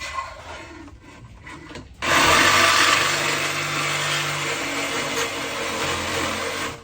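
A Milwaukee cordless reciprocating saw cuts through a car's catalytic converter pipe. After a quieter start it runs loud and steady with a harsh, continuous rasping buzz close by for about five seconds.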